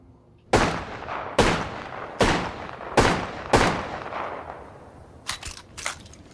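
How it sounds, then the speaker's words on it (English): JAKKS Pacific Wingman toy pistol firing five loud, evenly spaced electronic gunshot blasts, each with a decaying tail, followed by a few quicker, fainter mechanical clicks. "Now we're gonna do maybe some two-handed shooting."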